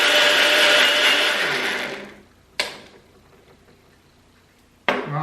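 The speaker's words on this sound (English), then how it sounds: "And we'll blend. It's gonna get loud because I'm gonna do a good job of blending." A blender whirs loudly while blending an avocado margarita, then winds down and stops, followed by two sharp clicks or knocks with quiet in between.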